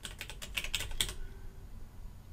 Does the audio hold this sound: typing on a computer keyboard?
yes